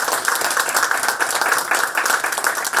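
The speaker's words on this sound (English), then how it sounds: "So if I could have a round of applause for our panelists." An audience applauds panelists at a women's leadership panel during a festival event, with dense, steady clapping that fills the room throughout, loud and close.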